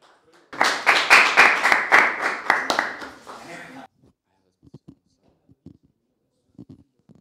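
Group clapping after a vote passes an amendment at a Model UN conference session, a burst of hand claps lasting about three seconds that stops abruptly, followed by a few faint scattered taps and small sounds.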